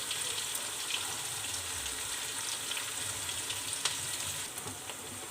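Onion fries in a pan for a cauliflower and potato curry, making a continuous bright sizzle at moderate level with occasional faint clinks. No voices are present.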